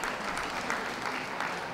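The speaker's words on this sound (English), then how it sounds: "Please give a round of applause to those leaving the ring" Steady, even applause fills a dog show ring at a toy group judging as the dogs are led out, a continuous wash of many hands clapping at moderate distance.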